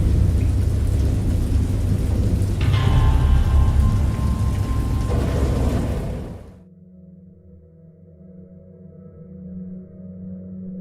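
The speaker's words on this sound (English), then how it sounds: "I know that I heard pearls of thunder and other tones which nature utters only in her wildest moods." In the Dagon video game, a thunderstorm pours heavy rain while thunder rolls loudly through the first six seconds, then cuts off to a quiet, low, droning ambient tone.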